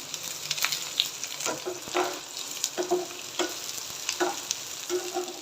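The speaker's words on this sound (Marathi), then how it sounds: "कांदा तळून घेऊया व्यवस्थित" Onions frying in a pan for paneer masala, a close steady sizzle broken by repeated scraping strokes of a spoon stirring them every second or so.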